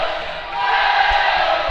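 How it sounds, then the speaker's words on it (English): Welsh supporters cheer and shout at a dodgeball match at the European championships, a broad, steady crowd roar that swells slightly toward the end, with scattered louder calls inside it. "Cheering from the Welsh crowd"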